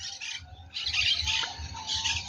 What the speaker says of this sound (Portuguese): tem muito bicho cantando, papagaio, cocota, sei lá como é que chama, bastante